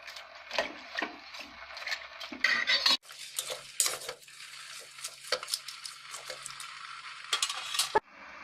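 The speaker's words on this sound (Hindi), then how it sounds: "अब इसको हम अच्छे से मिक्स करेंगे और एक उबाला आने देंगे" Homemade vegetable stock being stirred in a pot, with a utensil scraping and clinking against the metal in irregular close strokes, a brief sharp knock partway through, and no voices.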